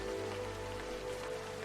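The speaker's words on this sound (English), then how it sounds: "watching the rain pitter-patter upon the foliage of the nearest trees" Rain pattering steadily on the foliage of nearby trees in a dark forest, a dense, continuous hiss of drops with no voices.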